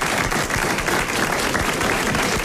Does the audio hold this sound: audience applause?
yes